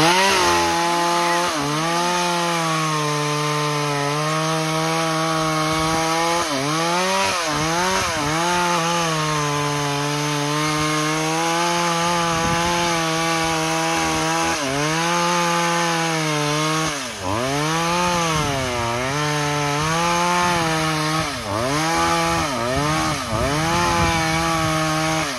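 A chainsaw cuts through an old Gừa bush in an overgrown garden, its engine droning steadily near and loud, the pitch dipping and rising repeatedly as the chain bites and frees.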